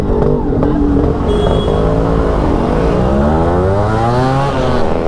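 Yamaha RX135 two-stroke motorcycle engine revving loudly and continuously up close, its pitch rising and falling through repeated throttle blips with no voices.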